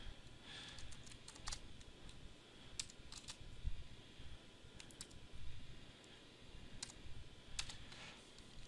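Someone types on a computer keyboard while entering names and dates, producing quiet, irregular bursts of key clicks with short pauses between them, close up and soft.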